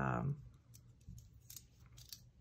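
A craft knife slicing through cardboard packaging pages, a series of faint, close scratchy cuts and small snips with quiet gaps between, starting just after a brief bit of speech.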